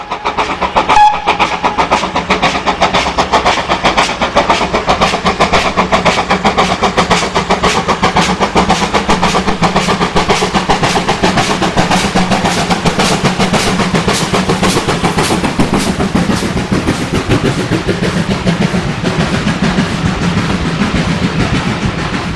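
Steam locomotive 6695, a 600 class 0-6-2 tank engine on the West Somerset Railway, works a train with a loud, rapid, steady chuffing exhaust and rolling wheel clatter that continue throughout, close and powerful.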